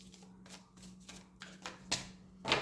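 Tarot cards being shuffled in several soft riffling bursts, the last two sharper and louder, set against a faint steady hum, with no talking.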